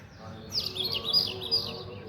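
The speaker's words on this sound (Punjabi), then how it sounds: "ਇੱਥੇ ਚਿੜੀਆਂ ਬੋਲਦੀਆਂ" Sparrows chirping in the early morning around a fig plant in a village, a brief faint flurry of high twittering calls over a quiet background.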